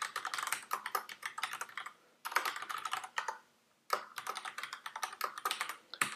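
Login details for a PhoneGap Build or adobe.com account are typed on a computer keyboard in three quick bursts of crisp, close key clicks with brief pauses between them, and nobody speaks.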